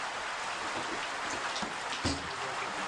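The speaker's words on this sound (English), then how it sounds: "finally we're getting a little bit of rain" Steady rain falls outdoors on a live safari drive, a continuous dense hiss of drops with a few slightly louder patters, heard without talk.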